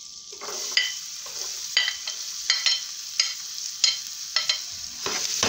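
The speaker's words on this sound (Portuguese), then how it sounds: "a margarina derreteu. Agora eu vou estar acrescentando cebola branca." White onion dropped into melted margarine in a pan, giving a steady close sizzle with recurring bursts of stirring and scraping, alone without talk.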